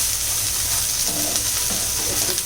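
Small amount of ginger and garlic sizzling in hot oil in a pan, a constant close frying hiss with faint stirring movements, no speech.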